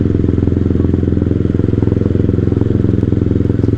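A Honda CBR150R motorcycle engine idles close by, a steady low rumble with a fast rhythmic chug and light mechanical clatter, continuous throughout with no talking.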